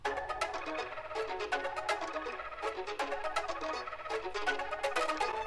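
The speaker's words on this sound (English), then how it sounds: "I found this phrase in the Marco Lens Wizard multi-kit that it sounds like this" Melodic sample phrase from the Marco Lens Wizard multi-kit for a dark beat, a quiet run of plucked, bell-like notes in a steady repeating rhythm, heard alone.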